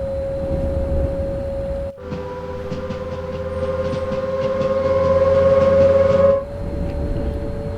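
A Class 390 Pendolino electric train on the West Coast Main Line out of Euston in Train Sim World, with a steady high-pitched traction whine over rolling rumble. The whine rises and changes tone for a few seconds, then settles.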